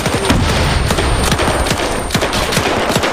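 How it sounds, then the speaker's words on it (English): Sustained MG-42 machine gun fire rattles in a dense, continuous burst during a WWII Battle of Berlin firefight in Arma 3, loud and close throughout. "MG-42! Go for the machine gunner!"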